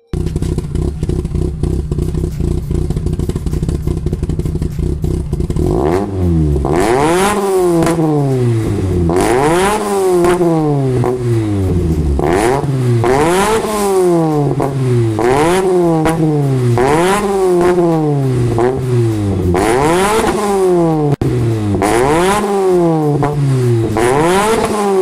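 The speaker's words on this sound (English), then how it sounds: "While the car is actually idling, I might as well just give you like a small riff on the car." A VW Mk1 Velociti engine idles roughly, then revs hard in a long series of loud, repeated blips, each rising and falling in pitch, close up with no talking.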